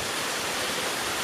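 Water pouring down from somewhere above in a jungle, a loud, even, broadband roar like a small waterfall, steady throughout the brief moment with no talking.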